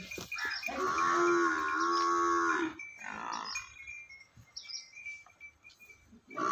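A Nili Ravi buffalo gives a long, loud, nasal low lasting a couple of seconds, followed by a quieter outdoor stretch with faint bird chirps and small scattered sounds.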